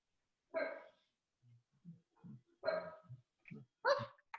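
A dog barks in a home during a video call, one sharp bark followed by several softer low whimpers and yips, then two more barks, close and clear with no talk.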